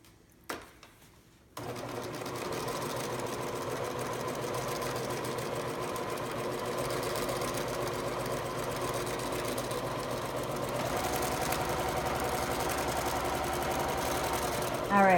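A sewing machine stitches the seam of a photo pillow, starting with a back stitch and then running in a steady, continuous mechanical whir with rapid needle ticking from close by after a brief start-up.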